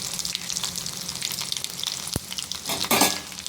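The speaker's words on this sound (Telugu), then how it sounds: "పోపు దినుసులు ఇలా వేగేటప్పుడు దీనిలోకి వెల్లుల్లి రబ్బలు దంచుకొని వేసుకోవాలండి" Spices and crushed garlic cloves frying in hot oil for a tempering for Andhra-style pappucharu, a steady close crackling sizzle with a few sharper pops and a louder burst of spattering near the end.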